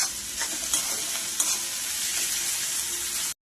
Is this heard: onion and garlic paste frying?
yes